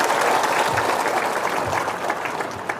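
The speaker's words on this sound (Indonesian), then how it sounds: "Tepuk tangan dulu." Audience at an Islamic religious talk about supporting pesantren students bursts into steady, dense applause that fills the clip and fades slightly toward the end, with no voices over it.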